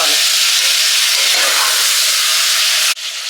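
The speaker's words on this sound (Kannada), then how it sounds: "ಈಗ ನಾನು ಮಟನ್ ಹಾಕಿ ಫ್ರೈ ಮಾಡ್ಕೊತ ಇದ್ದೀನಿ" Mutton pieces fry in a pan on a low flame for mutton gravy, giving a loud, dense, unbroken sizzle and hiss heard up close. A brief dip comes near the end before the frying noise resumes.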